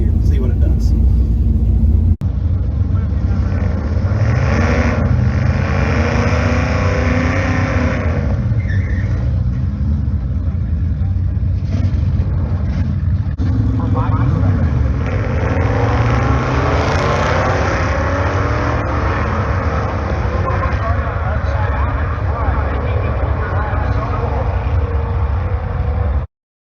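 Nitrous drag car at a Sick Week tech day launching and pulling wide open through the gears, shifting near 5,500 and 5,700 rpm; a loud continuous engine roar with rising pitch sweeps and brief shift dips, close to the listener for over twenty seconds.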